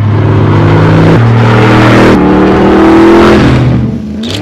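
A 2015 Superlite Coupe kit car with a 480 hp LS3 V8 drives past close by, its engine note loud and steady with shifting harmonics and rising pitch before easing off near the end.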